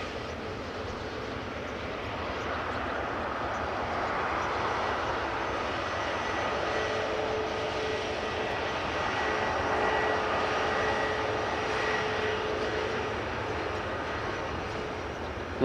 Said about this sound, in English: we also still have an arriving EasyJet A320neo